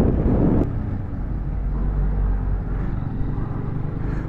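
A 125cc motorcycle engine rumbles close and loud as the rider lets off the throttle and clutch. A brief harder surge drops into a steady, throbbing low drone.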